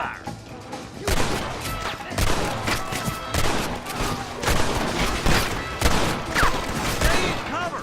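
A volley of gunfire in the Western video game Red Dead Redemption, with many rapid shots crackling and overlapping in dense, continuous bursts, loud and close, while voices shout under the shooting.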